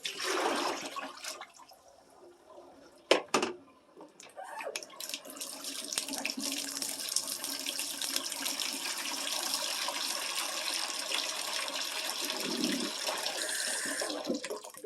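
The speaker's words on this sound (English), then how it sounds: "I started saying I'm through with my dishes, but I'm not totally. I got some knives." Dishes and knives rinsed under a running kitchen tap, starting with clinks and a sharp knock before a steady stream of water hisses continuously into the sink at close range.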